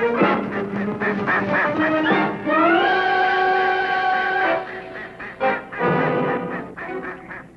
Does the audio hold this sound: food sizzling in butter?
no